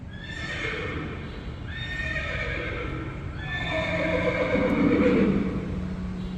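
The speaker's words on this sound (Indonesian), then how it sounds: "Terus ini yang kuda." A horse-whinny sound from a Zeekr X electric car's sound effects plays several times in a row, loud and close, with high wavering calls rising and falling against a steady low background hum.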